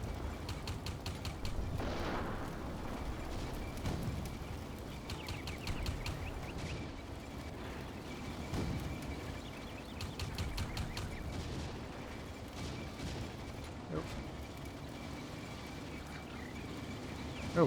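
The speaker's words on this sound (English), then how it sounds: "Shooting at that Panzer IV at extreme range." Tank gunfire aimed at a Panzer IV at extreme range in the Combat Mission wargame, with repeated distant booms and crackling volleys over a steady rumbling battle bed, mostly without talk.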